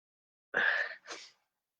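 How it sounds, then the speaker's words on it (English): A single sharp sneeze, an inhaled burst followed by a shorter second expulsion, close and fairly loud against silence. "I'm going to sneeze"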